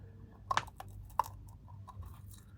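Close, faint crunches as someone bites and chews a crunchy chocolate cone, a few sharp cracks followed by softer chewing sounds in a quiet room.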